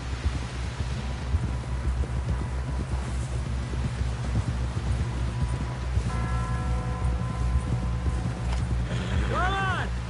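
Horse hooves clip-clop in the Red Dead video game as a steady, rhythmic trot under voices and a faint windy background.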